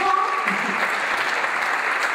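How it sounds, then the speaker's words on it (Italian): Audience applause at a live contest show: steady, fairly thin clapping from a crowd that continues evenly throughout, moderately loud with no one speaking over it. "Sentiamo pochi applausi però"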